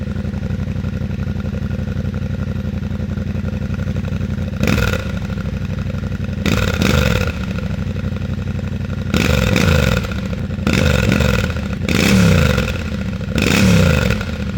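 Yamaha Tenere 700 motorcycle engine idling steadily at close range, with several short louder revving bursts and mechanical clatter spread across the run; no talking.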